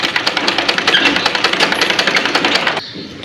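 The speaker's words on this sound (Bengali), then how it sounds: "গলার পটি যেভাবে বসাতে হয় এভাবে সেলাই করব।" A sewing machine runs in a steady fast rhythmic chatter, stitching fabric for a sleeve design around a neck-band style seam, loud and close, then stops abruptly near the end.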